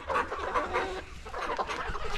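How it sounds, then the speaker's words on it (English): Chickens cluck continuously in a coop, a busy overlapping chorus of close, moderately loud clucks and squawks with no talking. "As you can hear, they're beginning to cluck."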